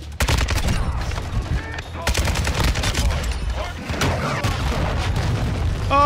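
Loud booms and dense gunfire roll through a Call of Duty Modern Warfare II match after a cruise missile strike, a thick continuous barrage of blasts and shots from close by, with a voice talking over it.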